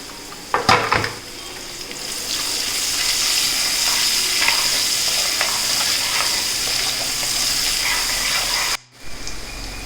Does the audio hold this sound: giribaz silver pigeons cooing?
no